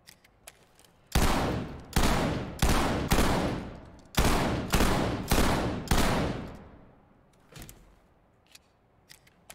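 A shotgun booms in the tactical shooter Ready or Not, firing eight loud, close blasts in rapid succession, each with a decaying echo. Faint clicks come before and after the volley.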